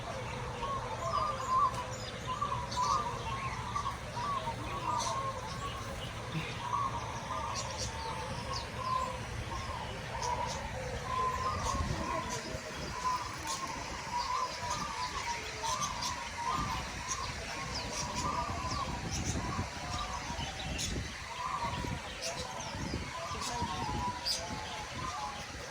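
Various birds chirp and coo in an Australian bird park, soft scattered calls and tweets running throughout at a distance, with low background rumble and occasional voices.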